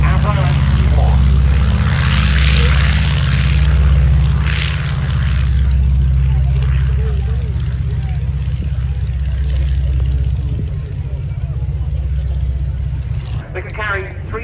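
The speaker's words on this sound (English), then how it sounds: "Here's on the roll, Avro Anson." An Avro Anson twin-engine propeller aircraft on its take-off roll at an RAF Cosford airshow: a loud, steady engine drone and propeller hum that eases slightly toward the end, with a commentator talking over it.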